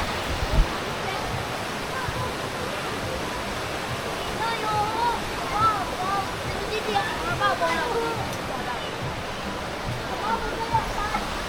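A waterfall at a farm in San Jorge, Samar, Philippines gives off a steady, broad rushing roar. Faint chirps or distant voices float above the constant wash of water.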